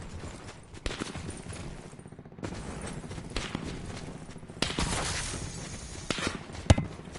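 Gunfire in the video game Black Ops 4, Blackout mode, with bursts of rapid shots and scattered single cracks over a busy background, some distant and some close, ending with one loud sharp shot.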